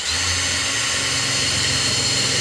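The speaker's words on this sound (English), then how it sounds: "drill a 3mm hole" A power drill bores a 3mm hole into a piece of off-cut wood, a steady, loud, close whine that holds without a break for the whole stretch.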